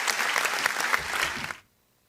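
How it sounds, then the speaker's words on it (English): A live podcast audience claps in a dense, steady burst that cuts off abruptly, leaving silence for the last half second. "All right, so I'm going to clap it up. Give me a clap for that."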